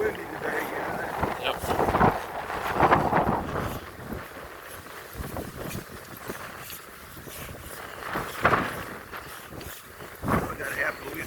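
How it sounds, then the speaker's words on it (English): Strong wind buffets a microphone while walking in a park, coming as loud rumbling gusts in bursts over a steady low blowing. "Pretty windy today, guys."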